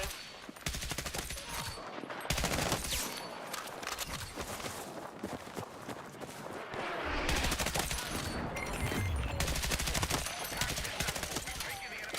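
M16 rifle gunfire in Battlefield 6 with repeated rapid bursts and scattered shots, near and loud, layered over busy battlefield noise and footsteps.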